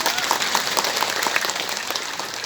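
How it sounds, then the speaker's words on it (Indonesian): Steady applause from an audience at a religious lecture gathering, fairly close and dense, continuing evenly for a couple of seconds with faint voices underneath. "Oh ya, tepuk tangan dulu teman-teman."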